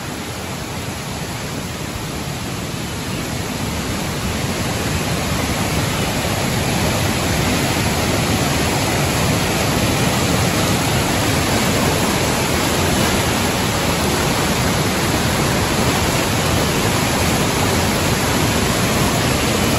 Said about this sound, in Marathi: माझा आवाज कमी आणि पाण्याचा आवाज जास्त येतोय